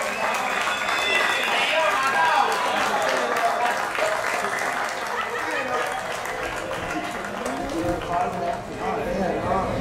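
Applause from the crowd at a trophy ceremony after the third race of a regional road-racing championship at a circuit, steady and moderately loud throughout, with a voice talking over it.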